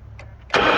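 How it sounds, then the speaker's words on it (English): A 1998 Ford Explorer engine starting just after a tensioner replacement: a couple of brief starter clicks, then the engine catches abruptly and roars loudly close by. "I'm gonna start it, and hopefully this fan blade doesn't go flying"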